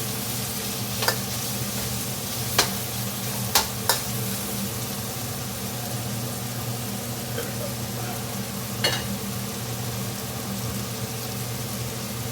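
Chicken fajitas sizzle steadily in a pan with a soft continuous hiss, a few sharp clinks of a utensil stirring against the metal, and a low background hum.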